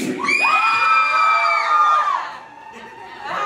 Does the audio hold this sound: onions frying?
no